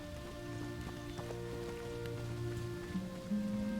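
Rain falls in Hogwarts Legacy near Hogsmeade, a soft, steady patter of drops under faint sustained musical tones.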